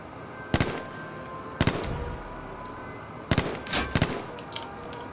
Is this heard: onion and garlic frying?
no